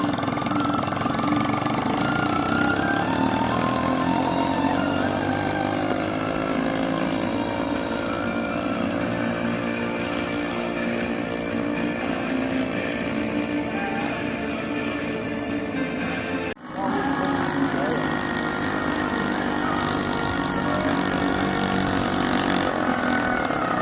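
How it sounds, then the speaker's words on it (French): Motorcycle engines drone steadily through a mountain stunt show where motorbikes and bicycles ride across a wire, a loud continuous mid-pitched hum with a brief dropout near the end. "un spectacle avec des motos, des bicyclettes qui passent sur un fil de fer"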